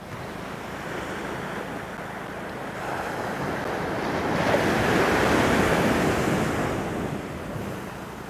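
Ocean waves surge up an Australian beach during a beach fishing session, a continuous roaring wash that swells louder toward the middle and then eases, with wind noise on the microphone and no talk.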